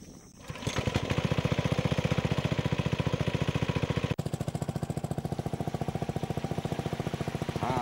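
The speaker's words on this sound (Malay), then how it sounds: "Okey, sekarang start enjin lah Akyong." A small engine in a rice paddy field sputters to life and then runs with a steady, loud, rapid chugging pulse, briefly dipping midway before continuing.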